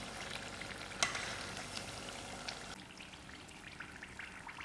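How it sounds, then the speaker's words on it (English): Patha rolls sizzling in oil that has cooled a little, a dense crackling hiss with light popping and a sharp clink near the start, easing slightly partway through, close and unaccompanied by talk. "It's been 10 minutes that I've been frying this."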